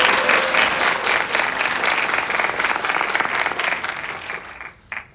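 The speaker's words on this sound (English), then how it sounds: "let's give them a round of applause" A room full of people at a high school graduation applauds steadily, a dense wash of clapping that holds level and then tapers slightly at the end.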